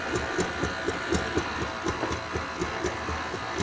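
Fudge pie batter is mixed with an electric mixer after a teaspoon of vanilla goes in, a steady whirring motor with soft rhythmic pulses as the beaters turn through the batter, moderately quiet and close, with no talk.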